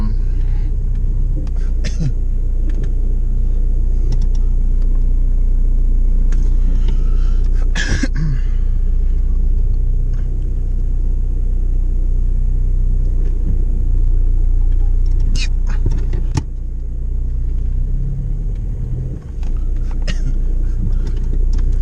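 A VW Polo 6N with a 1.9 diesel engine rumbles steadily as it creeps into a garage, its low idle running throughout beneath someone talking, with occasional clicks and knocks.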